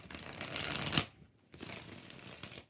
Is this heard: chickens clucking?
no